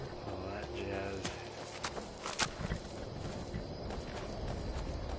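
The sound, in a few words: horse-drawn carriage hooves clip-clopping in video game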